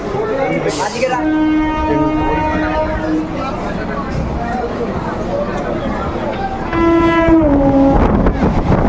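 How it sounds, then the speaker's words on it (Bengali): A local train on the Howrah to Digha line pulls into a station after a 24 km run from Santragachi, its horn blaring in long steady tones near the start and again near the end over continuous rumbling and crowd noise. "সাঁতরাগাছি থেকে চব্বিশ কিলোমিটার পথ অতিক্রম করে আমাদের ট্রেন এসে পৌঁছালো"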